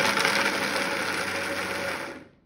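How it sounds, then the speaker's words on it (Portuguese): A kitchen blender grinds hazelnuts into flour, a loud steady whirring drone that holds for about two seconds, then cuts off abruptly. "A gente põe no liquidificador."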